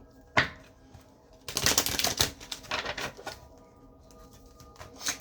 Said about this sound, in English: Let's go ahead and just finish shuffling.